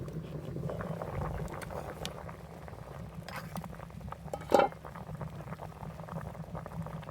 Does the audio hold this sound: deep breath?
no